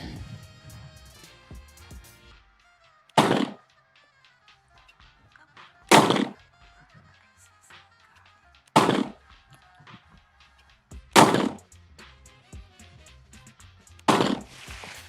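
A CZ Shadow 2 Compact pistol fires five sharp shots spaced evenly about three seconds apart, each one loud and close, with quieter handling noise between them.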